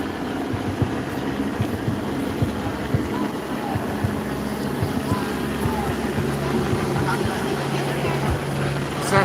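A police helicopter circles over downtown Los Angeles, its rotor thrum a continuous distant drone beneath steady city background noise.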